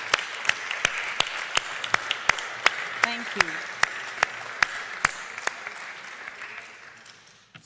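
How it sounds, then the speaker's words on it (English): Audience applause at a longevity advocacy summit in Madrid, steady clapping with crisp close claps at a regular beat, a brief spoken thanks partway through, fading out toward the end. "So a round of applause for all of our advocates and leaders."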